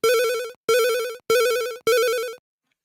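A MakeCode Arcade game studio logo jingle resembling a telephone ring: four identical loud electronic ring bursts in steady rhythm, each fading slightly before a brief gap, then silence.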